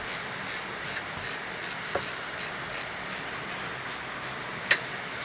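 A ratchet tightening a brake line bolt during a rear brake overhaul on a Toyota Camry, an even series of quick clicks in a steady rhythm, close and moderately quiet, with one louder metallic tick near the end and no talking.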